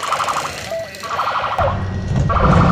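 An ambulance siren wails over traffic noise, its tone warbling up and down, with a low engine rumble growing louder.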